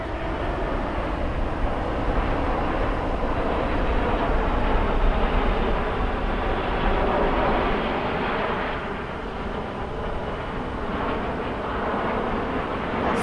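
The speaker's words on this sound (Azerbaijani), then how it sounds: "MiG-29 kırıcı bombardımançı teyyareler altılığı, onlar da uçak uçuş tapşırığını yerine getirirler." A six-ship formation of MiG-29 fighter-bombers passes over a military parade in Baku's Freedom Square, producing a broad, sustained roar that stays loud and steady for the whole stretch with no voices.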